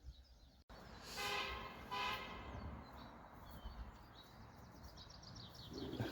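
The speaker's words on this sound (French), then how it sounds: "Il y a une voiture qui vient de klaxonner." A passing car honks its horn near a livestock field, with a couple of short toots over a steady outdoor rumble, fairly faint and distant, with birds faintly present.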